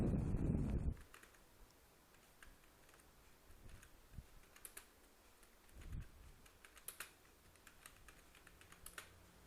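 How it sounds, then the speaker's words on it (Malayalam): Keys tap on a computer keyboard in quick, light clusters of faint clicks after a brief burst of louder noise at the start, close by in a quiet room. "നമുക്ക് ജസ്റ്റ് ഒന്ന് ടൈപ്പ് ചെയ്ത് നോക്കാം."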